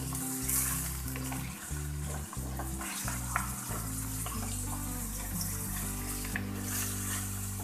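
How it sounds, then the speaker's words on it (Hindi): Minced meat keema frying in a pan during keema karela cooking, a steady close sizzle with watery crackling and occasional utensil clinks, heard alone without talk. "कीमे को यहाँ पर इसका पानी ड्राई होने तक फ्राई करेंगे।"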